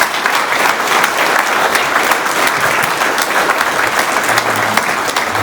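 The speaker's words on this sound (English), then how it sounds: "Please give our detachment a hand of applause." A gala audience applauds a detachment at an honor-our-heroes event, loud, dense clapping from a large crowd sustained evenly throughout.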